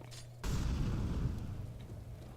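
An incendiary grenade bursting in CS:GO, a sudden low rumbling whoosh that erupts and then roars steadily as the fire spreads, fairly close and without talk.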